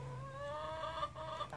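A chicken wearing a harness gives a few soft, quiet clucks and short murmuring calls, close by in an otherwise calm setting.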